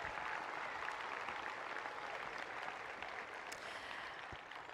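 Faint, sustained applause from a large crowd at a high school graduation ceremony, a steady wash of clapping that gradually tapers off.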